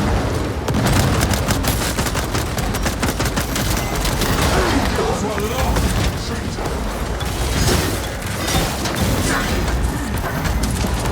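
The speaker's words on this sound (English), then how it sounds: "Throwing frag grenade!" Frag grenade explosion amid heavy combat in the video game Space Marine 2, with booming blasts and rapid bursts of gunfire piling up loudly, and a voice occasionally breaking through the battle noise.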